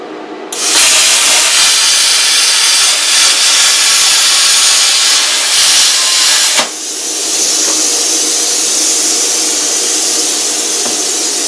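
A Lotos LTP5000 plasma cutter slices through aluminum sheet indoors over a fire blanket, giving a loud, steady broadband hiss and roar that starts abruptly, dips briefly partway through, then carries on at nearly the same level to the end.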